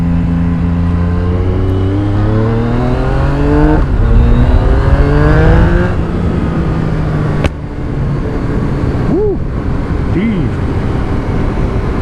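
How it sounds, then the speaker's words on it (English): 2017 Yamaha MT-09 motorcycle with an Akrapovic carbon exhaust, loud and close, revving and accelerating with rising engine pitch, then backing off with exhaust pops, while a voice talks over it. "these plops of the exhaust"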